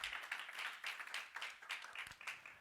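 A church congregation claps their hands together for the Lord in a steady, lively rhythm, many hands blending into a continuous patter heard from across the room, with no talking.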